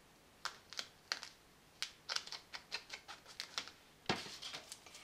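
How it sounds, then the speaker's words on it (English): Adhesive tape backing is peeled away during gift wrapping, heard as a series of quiet, sharp crackling ticks and small tearing snaps in an irregular rhythm, ending with a slightly longer rip. "And then remove your backing."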